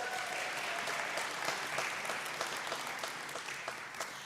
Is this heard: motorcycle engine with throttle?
no